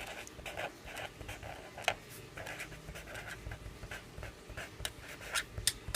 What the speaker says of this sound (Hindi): प्रोबेबिलिटी फाइंड करने के लिए बच्चों आपको फार्मूला पहले आपने लिखना होता है